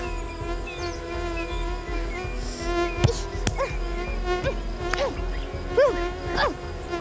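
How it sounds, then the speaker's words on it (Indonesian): Mosquitoes whine in a steady, close, high buzz outdoors in a wild natural spot, with other insects droning and a few sharp chirps over it. "Nyamuk lagi."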